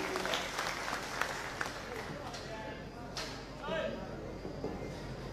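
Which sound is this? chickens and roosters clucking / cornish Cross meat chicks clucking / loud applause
loud applause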